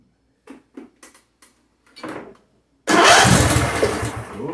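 A John Deere D170 lawn tractor engine catches after a few short cranking bursts, then roars into a loud rough running sound close by.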